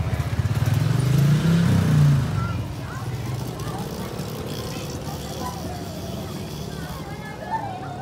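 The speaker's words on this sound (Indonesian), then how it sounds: "Awas, awas, motor." A motorcycle passes close by at an outdoor school carnival and costume parade, its engine loud for the first two seconds and then fading into crowd chatter and background noise.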